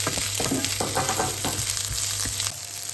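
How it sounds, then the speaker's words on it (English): Onions and dry red chilies frying in mustard oil for beef kala bhuna, with a loud constant sizzle close by and crackling bursts as the pan is stirred. "And add the onions. And a couple more of the dry red chilies."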